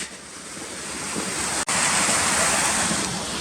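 Creek water rushing continuously in Kings Canyon in the Sierra Nevada, a loud, steady broadband roar of flowing water close to the microphone, broken only by a momentary dropout midway.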